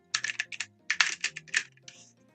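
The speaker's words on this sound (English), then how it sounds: "be aware you will hear some satisfying keyboard clicking" Bursts of rapid computer keyboard clicking in uneven clusters, close and crisp, with short pauses between flurries of keystrokes and no talking.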